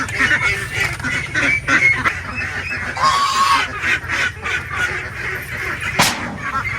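Free-range ducks call before feeding, a dense, continuous chorus of honking quacks close by with no talk over it.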